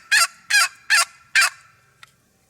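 Four separate raspy yelps at an even pace from a turkey box call, loud and close, then a faint short squeak; the calls sound scratchy and unnatural.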